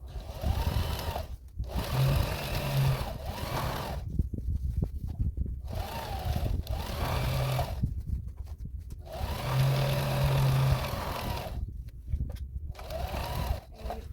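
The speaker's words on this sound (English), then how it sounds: "I'm just going to stitch this up real quick" A sewing machine stitches a seam in drop cloth fabric, running in several short, whirring bursts separated by brief pauses, close and clear with no talking.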